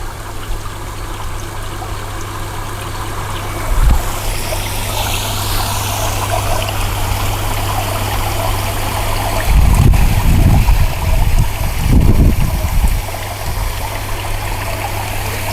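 Water running steadily through plant pots to flush out leftover fertilizer, a continuous trickling stream with louder gushing bursts near the middle and later on.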